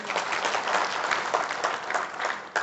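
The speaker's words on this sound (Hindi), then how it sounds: "एक बार जोरदार ताली होनी चाहिए" An audience at a motivational talk breaks into loud, sustained applause, a dense wash of many hands clapping steadily throughout with no speech over it.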